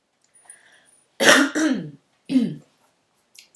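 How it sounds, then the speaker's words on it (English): A person clears their throat up close, two loud raspy hacks after a faint breath, then a short quiet pause. "Excuse me, whilst I clear my throat."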